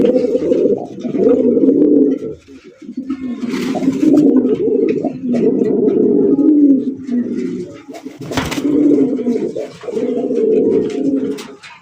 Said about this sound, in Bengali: ডাকের কি গর্জন রে ভাই এক একটা নরের এক এক রকমের স্টাইলে ডাক